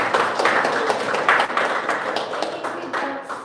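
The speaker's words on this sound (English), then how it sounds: "Let's give them a huge applause." Applause from a conference session audience in a room, a dense steady wash of many hands clapping close by that holds through and thins slightly toward the end.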